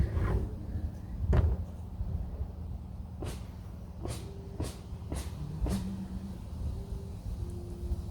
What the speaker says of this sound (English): You can hear them doing the roof next door.